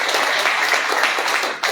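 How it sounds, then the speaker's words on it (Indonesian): A church congregation claps at a sermon's prompt, giving a short burst of dense, steady applause that fades slightly at the end. "Tepuk tangan dulu ya buat Tuhan dulu ya."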